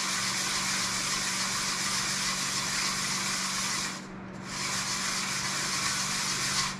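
Steady, close rasping of 320-grit sandpaper rubbing on a metal 9-inch Ford ring gear. The scratching runs continuously with one brief pause midway, then resumes.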